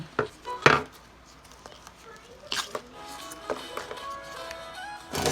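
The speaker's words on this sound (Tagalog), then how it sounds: "Cut natin siya ng apat." A knife chops banana heart into four pieces on a cutting board, a few sharp taps spaced apart while someone talks over them.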